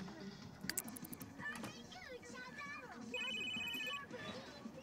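In The Sims, a phone chirps with a short, repeated electronic ringtone later in the moment, mixed with light game effects, keyboard tapping and someone talking.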